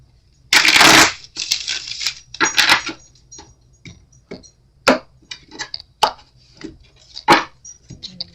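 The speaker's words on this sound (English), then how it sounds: "Right after I shuffle these cards for you." Cards are riffled and shuffled in several loud bursts, then a series of sharp snaps and taps, close and clear.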